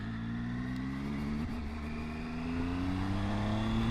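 A Triumph Tiger 800 XCA's inline-three engine drones steadily as it accelerates, its pitch rising smoothly and continuously, heard alone without any talk.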